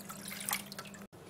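Water trickles into a ground walnut, cilantro, raisin and garlic mixture, making a soft, close splashing and dripping over a steady low hum, then cuts briefly to silence.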